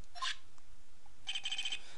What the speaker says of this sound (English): what is with the stupid sounding ringtone?